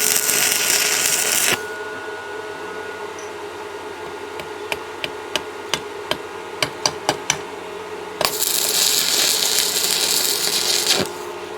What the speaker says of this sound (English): So usually how I start this is by tacking one side together and the other side.